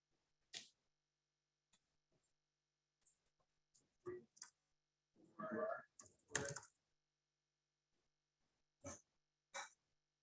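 Computer keyboard typing at a town plan commission meeting, heard as a few sparse, faint clusters of key clicks with long quiet gaps in a quiet room.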